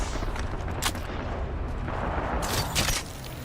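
Video game gunfire strikes the player during a battle royale match, a dense rattle of shots and impacts with bursts of louder cracks, close and continuous, no talking.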